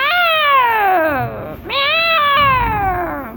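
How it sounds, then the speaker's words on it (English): Two clear, loud cat meows in a video game, each a drawn-out falling cry with a short break between them. "A cat. A cutie cat."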